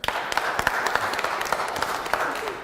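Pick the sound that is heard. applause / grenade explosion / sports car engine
applause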